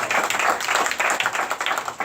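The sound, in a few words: audience applause for the councilman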